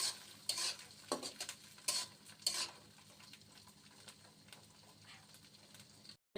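Garlic fries in hot mustard oil in a wok with a soft, steady sizzle, while a utensil stirs and scrapes against the pan in several sharp bursts.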